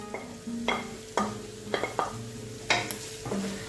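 Large mushroom pieces sizzle in a pan while a utensil stirs and scrapes them in sharp, irregular strokes, close and fairly quiet, with no talking.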